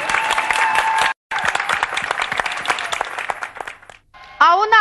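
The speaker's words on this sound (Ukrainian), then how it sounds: "Оплески чоловікам тепер!" A studio audience at a Ukrainian folk music TV show applauds the men, dense clapping running for about four seconds with a brief break, then a voice or music cuts in at the end.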